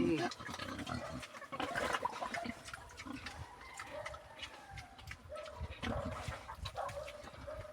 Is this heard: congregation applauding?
no